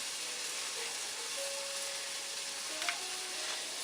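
Chopped greens sizzling steadily in a hot pot, a continuous broad frying hiss with soft crackle throughout, close and alone with no voices.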